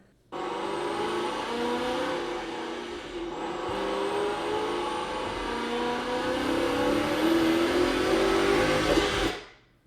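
A car's exhaust and engine picked up by wireless lavalier mics, revving up steadily from idle in a rising, close, continuous roar that climbs over several seconds before cutting off abruptly, with no talk.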